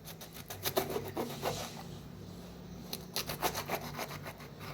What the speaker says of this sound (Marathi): आता मिरच्या घेतल्या त्या मिरच्या कापून घ्यायच्या